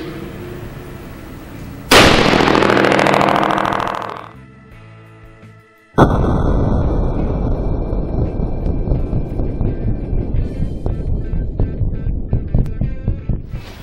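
Two loud .308 rifle shots fired with a bare muzzle crack out a few seconds apart, each followed by a long ringing decay and a rush of wind noise, with no talking.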